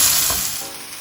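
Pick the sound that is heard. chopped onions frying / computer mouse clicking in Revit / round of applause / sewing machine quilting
chopped onions frying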